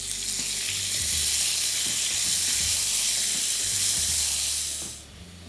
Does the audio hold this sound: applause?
no